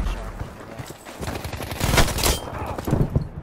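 Automatic gunfire in Battlefield's Firestorm battle royale mode crackles in rapid, dense bursts that build toward the middle and return at the end, loud and close with little talk over it.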